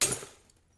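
A glass shelf smashed with a chair in an audio game: one sharp, bright crash at the onset that quickly decays into a short tinkling tail of falling shards.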